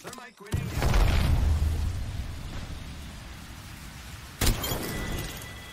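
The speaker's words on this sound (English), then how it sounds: "Arc star out. Thermite grenade." A thermite grenade going off in Apex Legends: a sudden boom followed by a long roaring burn that slowly fades, then a second sharp blast-like hit, loud within game noise.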